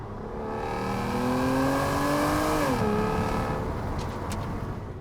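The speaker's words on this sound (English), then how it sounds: "It's a really nice sounding car." A V12 Aston Martin DB9 engine hums smoothly at a steady pitch while driving, heard from inside the car, then its tone drops as the revs ease midway and the engine keeps cruising.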